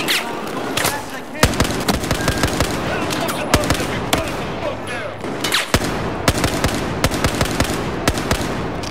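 Single-fire gunshots in a Battlefield 4 campaign firefight, sharp loud shots cracking out one after another over continuous dense battle noise.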